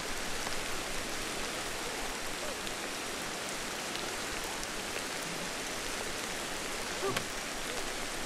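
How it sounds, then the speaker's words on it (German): Steady, dense rain pours down without a break in the video game Ancestors: The Humankind Odyssey, a close, even hiss that fills the whole stretch with only faint scattered drops standing out. "Durch den Regen, ich höre gar nichts."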